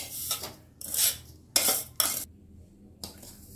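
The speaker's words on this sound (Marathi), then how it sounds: "त्यामध्ये रवा घालून आता छान खमंग भाजून घ्यायचा आहे." Semolina being roasted in ghee in a pan on low flame for karwari karanji filling, with a spoon scraping and clinking against the pan in several short bursts, close and moderately loud.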